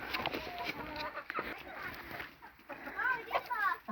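Hens cluck in a snowy winter farmyard as feed of porridge and bread is carried to them, soft intermittent clucking beneath a person talking close by.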